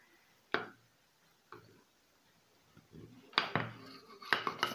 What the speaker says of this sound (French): Là, je vais découper le gâteau pour vous montrer le rendu.